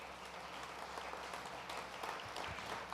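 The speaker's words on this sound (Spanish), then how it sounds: "Dale fuerte el aplauso al Señor." Congregation applauding the Lord during a church sermon, a steady wash of many hands clapping together, dense and sustained at moderate level throughout.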